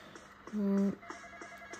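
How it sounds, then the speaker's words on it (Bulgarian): A telephone rings once in a video game about a flight attendant on a crashing plane, a short, loud electronic tone over faint background game sounds. "Някой звъни по телефона."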